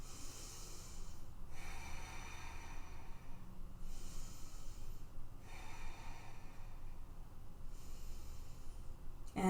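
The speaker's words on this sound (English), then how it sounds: "3 rounds of breath here." Slow, deep breathing during a yoga humble warrior pose: about three drawn-out airy breath cycles, soft and steady against a quiet hiss of room noise.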